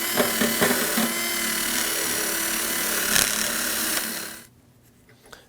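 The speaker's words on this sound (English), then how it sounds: "I'll be using a bore brush on a drill for this." A drill spinning a bore brush scrubs the bores of a running board bracket on a 2009-2014 Ford F-150, a steady whirring, rasping noise that runs for about four seconds, then stops, leaving quiet.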